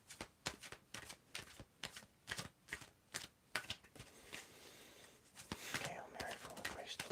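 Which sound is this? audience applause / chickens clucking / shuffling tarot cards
shuffling tarot cards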